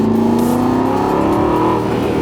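A loud Aston Martin Vantage S V8 engine revs up with a deep, rumbling growl that rises and then eases off, close by and alone.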